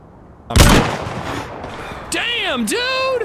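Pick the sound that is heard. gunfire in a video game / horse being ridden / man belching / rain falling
gunfire in a video game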